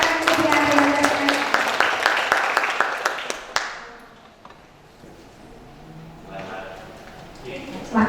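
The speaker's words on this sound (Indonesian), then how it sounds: "Monggo Pak Kris, boleh tepuk tangan dulu buat Bapak yang sudah." An audience at a kethoprak theatre event in Jogja claps for several seconds, dense and fairly loud, then the applause dies away to a quiet room with faint murmuring.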